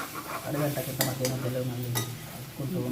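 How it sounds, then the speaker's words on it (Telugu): Pulla ganda pulusu, a tamarind stew, being stirred in a pot, with soft scraping and a few clinks of a spoon against metal over a low simmering hiss, close up. "ఇప్పుడు మంచిగా కలుపుకొని"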